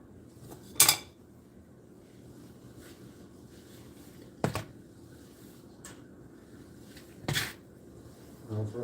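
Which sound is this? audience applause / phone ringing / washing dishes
washing dishes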